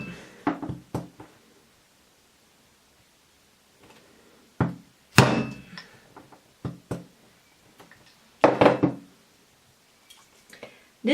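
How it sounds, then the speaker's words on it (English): Small leather punches struck with a hammer to mark shoe leather for homemade sneakers, sharp irregular knocks spaced out with quiet pauses between them, close and fairly faint. "for now, it's hammer time"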